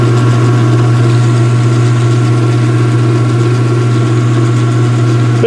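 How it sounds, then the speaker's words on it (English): A washing machine with its cover open runs steadily, its transmission and drive belt spinning in opposite directions, giving a constant loud motor hum with a low drone and no speech. "there's the transmission now. Actually spins around, just like the old Maytags and probably many other machines."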